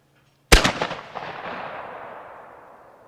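A single sharp shotgun blast fired at a clay target outdoors, loud and close, with a long rolling echo decaying over a few seconds.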